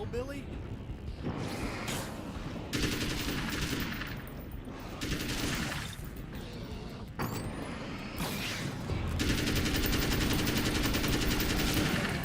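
Gunfire in the video game Alan Wake's American Nightmare, bursts of rapid shots alternating with short gaps, fairly loud against game ambience, with a voice talking over it.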